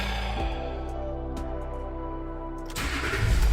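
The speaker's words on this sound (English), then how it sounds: "start the engine and select low range" A Range Rover Sport L320 engine cranks and catches, then settles into a steady, close idle before revving up sharply near the end, with no talking.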